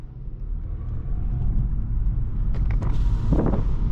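A left-hand-drive Chevrolet Camaro rumbles past in traffic, its engine note swelling steadily and peaking near the end with a brief rev, heard from nearby with no talk over it.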